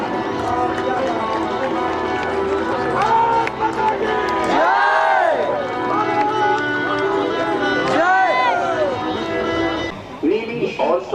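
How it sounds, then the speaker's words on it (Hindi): A large outdoor crowd at the Prayagraj air show claps and cheers beneath loud amplified commentary from an announcer, making a continuous wash of noise throughout. "प्राण लेकर क्या जोरदार तालियां मास्टर वार्ड ऑफिसर रविंद्र के लिए"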